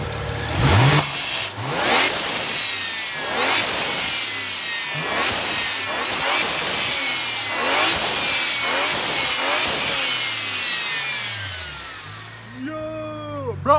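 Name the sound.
car engine revving after chargepipe and HKS BOV install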